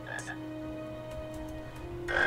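A chocolate frog croaks in the Harry Potter and the Chamber of Secrets video game, two short croaks at the start and end over a steady electronic game hum, with no talking.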